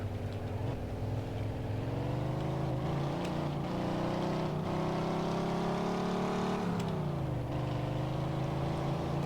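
BMW M3 E46 GTR race car in Mafia II revving hard and accelerating, a loud steady engine roar with rising and dipping pitch through gear changes, alone and close throughout.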